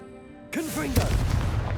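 A Confringo blasting curse in Hogwarts Legacy starts with a rising, warbling magical whoosh, then bursts into a loud, booming explosion whose rumbling tail fills the rest of the moment.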